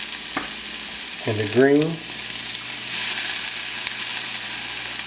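Onions and sweet peppers frying in oil in a pan, a steady sizzle running throughout, with a brief stir near the start and a short spoken phrase over it.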